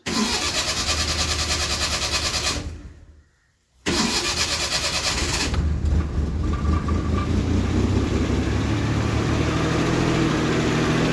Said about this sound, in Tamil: வண்டி பார்த்திங்கன்னா ஸ்டார்ட் ஆகிட்டு